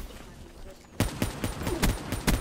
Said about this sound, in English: Why do you keep using that pistol?